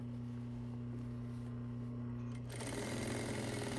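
A sewing machine runs a guideline stitch an eighth of an inch from a fabric edge during skirt construction, giving a steady, close motor whine that shifts to a busier, louder stitching rhythm partway through, with no talking.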